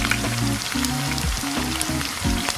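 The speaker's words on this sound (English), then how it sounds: "Add the chili paste and fry for a few minutes." Chili paste, ginger and garlic frying in oil in a pan, a steady close crackling sizzle that runs without pause over a low tonal background.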